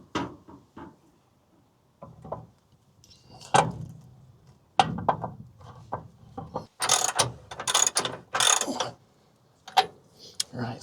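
A hand ratchet clicks in short, uneven runs while fasteners are tightened on a 1965 car's front suspension, with close metallic clatter and handling knocks between the bursts.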